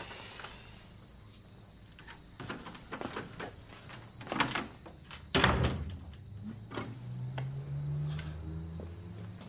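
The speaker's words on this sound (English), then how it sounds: "And close the door." Indoor door pushed shut with a solid thunk in the middle, preceded by scattered knocks and shuffling footsteps, then a low hum of room noise after.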